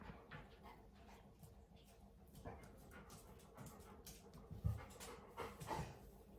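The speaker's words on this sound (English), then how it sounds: "So that is my dog in the background." A dog pants heavily and rhythmically nearby, faint and steady, with a brief whimper or shuffle partway through.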